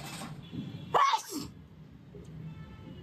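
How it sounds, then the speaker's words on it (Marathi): A woman lets out a single loud, sharp sneeze at close range, a short burst standing out over a low background murmur. "ही बाई खूप जोरात शिंकली"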